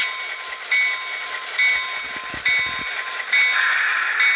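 An HO scale FP9 model locomotive with DCC sound creeps forward, with a steady electronic diesel engine hum, a high tonal whine and a few soft clicks and rumbles of wheels on track, with no talk.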